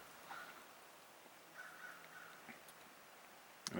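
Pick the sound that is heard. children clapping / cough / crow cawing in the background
crow cawing in the background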